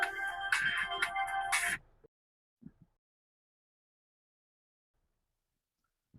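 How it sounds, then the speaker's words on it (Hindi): A phone ringtone plays a bright, repeating melody for under two seconds, then cuts off, followed by a couple of faint soft bumps in near silence. "फोन आ गया यार"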